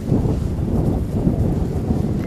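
Wind buffets a flag outdoors in a steady, loud, rumbling roar that continues without pause for the whole stretch, with no voices.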